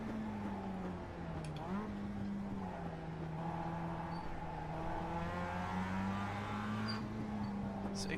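Mazda MX-5 race cars in iRacing at Daytona's Moto infield layout, with an engine revving up and down through the corners as other cars whine alongside. The engine noise is steady and moderately loud.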